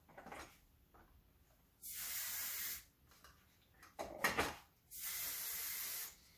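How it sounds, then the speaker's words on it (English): Dry oil spray with botanicals misted over styled hair: two steady hissing bursts of about a second each, close and fairly loud, separated by quieter handling noise. "So now our dry oil spray we mist over the top"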